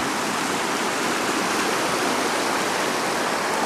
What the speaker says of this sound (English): And immediately find still another pretty stream.